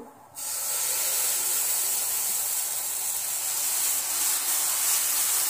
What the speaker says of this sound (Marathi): इथे आपण बॅटर सर्व मिक्स करून घेऊ आणि उत्तप्पा टाकून घेऊ।